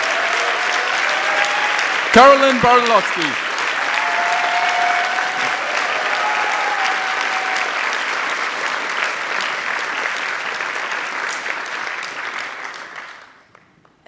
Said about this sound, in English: Let's have a rumbling round of applause for that.